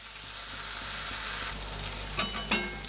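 Water spinach (kalmi shak) frying in a pan, a soft steady sizzle with a few sharper stirring clanks near the end, no talking.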